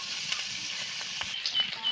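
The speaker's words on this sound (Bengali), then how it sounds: "চিংড়ি মাছগুলো ভেজে নেবো নুন হলুদ দিয়ে" Soft, steady sizzle of prawns with salt and turmeric frying in oil, with light crackles and scattered small pops.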